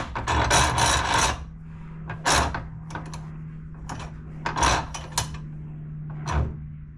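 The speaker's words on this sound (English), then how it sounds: "I'm gonna drill this." A small drill bit bores into a part on a TroyBilt Pony riding mower, producing raspy grinding bursts at the start and again in the middle and end, with a low steady hum between them, close and alone.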